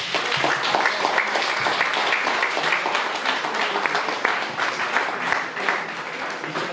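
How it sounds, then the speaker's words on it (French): An audience at a French public debate breaks into sustained applause, a dense, steady wash of clapping hands at fairly close range that carries on for several seconds without fading. "Donc on peut aussi vous applaudir pour ça."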